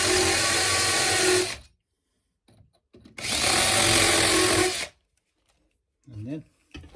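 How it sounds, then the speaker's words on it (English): A hammer-action power drill with a 6–7 mm bit bores holes in a wall while a single power socket is swapped for a double. Two loud, close, sustained bursts are separated by a pause, followed by faint handling noise. "Now we can just drill out those holes."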